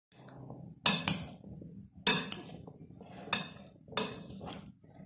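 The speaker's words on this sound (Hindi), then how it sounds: "इन तमाम चीज़ों को मिक्स करूँगी।" Chopped onion, coriander, mint and green chili tossed together for lobia channa chaat: four sharp clinks of a utensil against a bowl at even intervals, with soft scraping between them.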